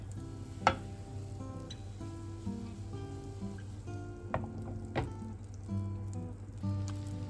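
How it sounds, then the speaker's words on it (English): Butter melting in a hot nonstick pan gives a soft, steady low sizzle, broken by a few sharp clicks and pops and utensil taps, with no one talking. "I melt butter in my nonstick pan, wait for that to get somewhat hot"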